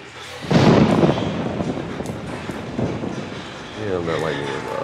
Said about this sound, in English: Damn, that lightning was off.